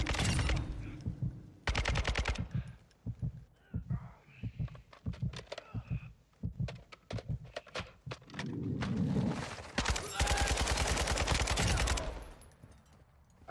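Gunfire in Call of Duty Warzone 2 DMZ hits a thick wall in sharp bursts and single shots, loud and close. The shooting breaks into several irregular volleys with quieter gaps and some footsteps between them.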